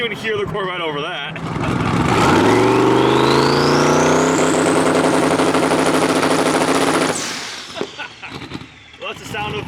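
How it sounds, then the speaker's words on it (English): A twin-turbo race car making around 1,500 to 1,600 horsepower revs hard nearby, its roar climbing steadily in pitch and holding at a loud peak for several seconds before dropping off into a crackling settle. "Well, that's the sound of about 15 to 1600 horsepower from Griffin, twin turboed"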